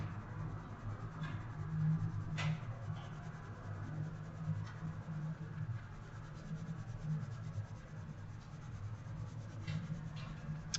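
Prismacolor colored pencil shading orange layers on black paper gives a steady, soft scratchy rubbing, close and continuous with faint strokes, no speech.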